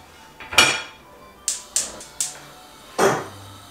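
A griddle pan is handled on a stove, giving five sharp metallic clanks and knocks with short ringing tails, spaced irregularly and close, with no talking.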